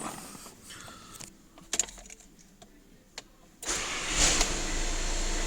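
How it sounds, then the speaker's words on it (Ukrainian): Key clicks and a starter whirring, then the 2.0 TDI diesel engine of a Skoda Superb 4x4 catches on a cold start and settles into a loud, steady idle. "Я роблю холодний старт."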